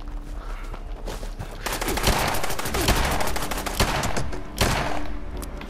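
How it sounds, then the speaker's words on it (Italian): Rapid gunfire in Fallout 76 Nuclear Winter mode crackles in dense automatic bursts and sharp single shots, loud and close, with a few heavier booming reports. "C'è qualcuno che mi sta sparando."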